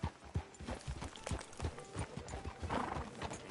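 Horse hooves clip-clop at a walk in Red Dead Redemption 2, steady close beats with a neigh mixed into a busy game soundscape.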